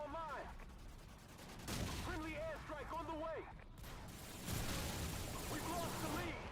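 Shotgun blasts in a Call of Duty game, a few sharp broadband bangs spaced a couple of seconds apart amid game noise, with voices heard over them.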